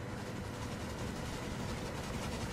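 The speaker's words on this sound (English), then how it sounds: "That's 3 trains now on the line." Trains running on a railway line in a railway-building video game, a continuous low rumble and rolling clatter that stays steady and fairly close throughout, with no voices.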